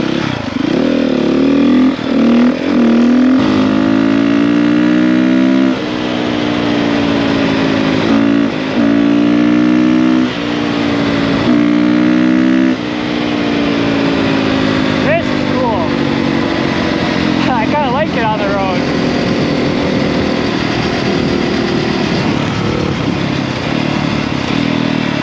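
Dirt bike engine under a rider on open ground, droning and revving steadily up and down for the whole ride with brief throttle changes, close and loud; the rider talks over it at times.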